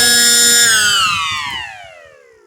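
A loud 14-port mechanical siren, run at very high speed, winds down after switch-off, its steady high wail sliding lower and fading as the rotor spins to a stop.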